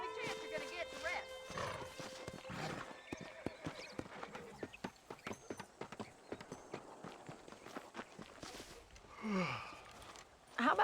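Horse in the Western video game Red Dead Redemption, with steady clip-clop hoofbeats and a brief whinny near the end, heard under game dialogue and ambient sound.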